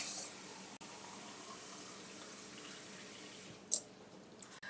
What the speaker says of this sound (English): Let me add some water to the Keurig.